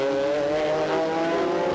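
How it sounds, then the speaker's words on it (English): A factory BMW M3 GTR E46 race car with a V8 engine at Sonoma, its engine note holding a steady loud drone as it passes close. "One of the 4 factory BMW M3s with a new V8 power plant."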